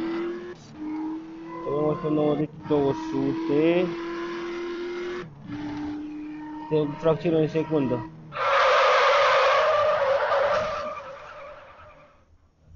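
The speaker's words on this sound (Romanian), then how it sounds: "Să vă arăt cum merge mașina asta." A car in a video game revs through its gears, its engine tones stepping up and dropping repeatedly, then finishes with a loud, sustained tire skid; someone talks over the engine sounds.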